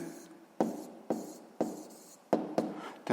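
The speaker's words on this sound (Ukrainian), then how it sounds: "Е, пишемо тоді відповідь." Pen writing out a physics answer on paper, a series of short scratchy strokes separated by brief pauses, close and fairly quiet with no voices.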